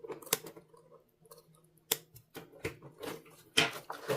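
Scissors snip through yarn on a plastic canvas crochet bag, a handful of sharp, close clicks and cuts spread unevenly over a few seconds in an otherwise quiet room.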